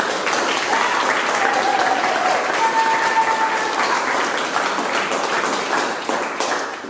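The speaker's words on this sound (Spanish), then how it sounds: "Vamos a darle otro aplauso." Sustained applause from an audience, a dense wash of clapping that holds steady and fades slightly at the end.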